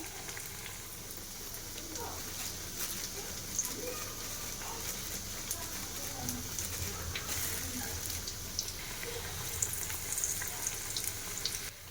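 Green gram vadas frying in oil over a medium flame, a steady soft sizzle and bubbling with a few louder crackles, faint and continuous throughout.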